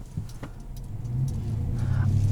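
2016 GMC Sierra 1500 SLT with an aftermarket exhaust, heard while driving as a low, steady engine rumble that swells slightly as the truck pulls forward, close and continuous.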